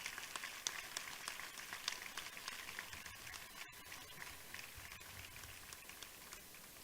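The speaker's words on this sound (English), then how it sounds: "Please join me in a round of applause for these legacy soldiers" A round of applause for legacy soldiers at an outdoor military redesignation ceremony at Fort Moore: faint, distant, continuous clapping from a crowd, soft and rain-like in texture, lasting several seconds without speech.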